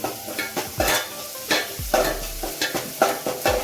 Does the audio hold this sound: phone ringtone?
no